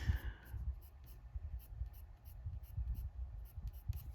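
Pen scratching across paper while writing, a steady run of soft, close strokes and scrapes with no voice over it, done beside an adult coloring page.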